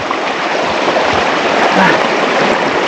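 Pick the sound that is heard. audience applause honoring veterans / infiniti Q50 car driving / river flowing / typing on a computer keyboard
river flowing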